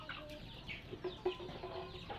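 Native backyard chickens clucking nearby, several short clucks and calls scattered over a quiet farmyard background.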